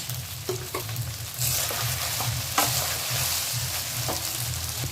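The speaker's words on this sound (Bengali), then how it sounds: "একদমই কম, লো ফ্লেম। একটু নাড়িয়ে নিয়ে এতে আমি চিনি অ্যাড করব 1 চামচ।" Pulao rice is stirred in a pan over a low flame, giving a gentle continuous sizzle with a few soft scrapes and knocks of the spoon, close and quiet, no voices.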